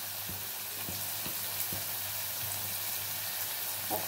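Potatoes fry in oil with turmeric and salt, hissing steadily in the pan while several soft knocks of a stirring utensil land early on, all without any voices.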